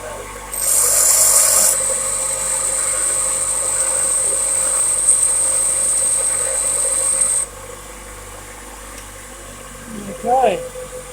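A high-speed steel lathe tool bit is ground, producing a loud, steady high-pitched whine that holds for several seconds and then cuts off, followed by a brief voice.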